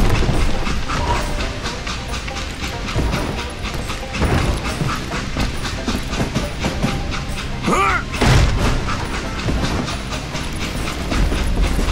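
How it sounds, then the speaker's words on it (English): Train running in the Gunslinger video game, a steady rumble with rhythmic clickety-clack of wheels over rails throughout, and a sharp metallic burst partway through, heard alone without talk. "It was then that Jesse detached the express car from the rest of the damn train"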